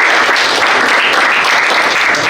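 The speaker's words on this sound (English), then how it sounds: "Round of applause for Mark" A crowd at a startup pitch event applauds loudly and continuously, dense clapping that holds its level for the whole stretch without any speech.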